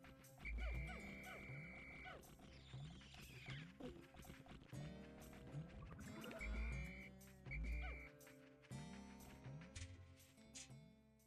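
Repeated low croaks from a frog creature in the Pikmin video game pulse through busy game music with chirpy sound effects, a steady loud rhythm of bursts throughout.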